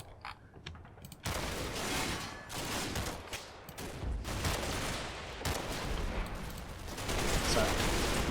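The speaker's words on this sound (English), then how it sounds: "Panzerschreck going off in the background." Panzerschreck rocket launchers fire amid sustained battle noise in the WWII game Combat Mission: Battle for Normandy, with loud, dense bursts of gunfire and blasts rolling continuously after a quieter opening second.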